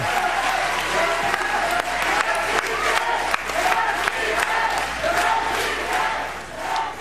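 A large crowd chants "yes, we can" after a committee vote, a loud, dense, steady roar with cheering and applause throughout.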